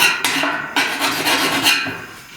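Metal file rasping back and forth along the edge of a steel upper cowl panel on a 1969 Chevrolet C10 pickup, close and loud in several uneven strokes with brief pauses between them.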